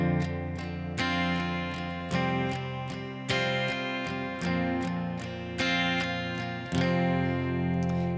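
Strummed acoustic guitar chords with a driving rhythm, strums on beats one and four hit harder in a repeating pattern, full and steady with no voices.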